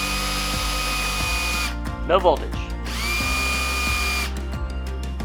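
A power drill spins a new vehicle speed sensor for a turbo Ford Escort, whining loudly for nearly two seconds, pausing, then running again for about a second and a half, with clicks between bursts and someone speaking briefly.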